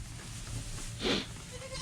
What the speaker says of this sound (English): Goats are really super smart.